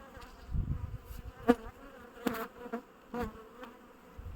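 Honey bees buzz around a hive, several close passes rising and fading over a few seconds, with a soft steady hum underneath.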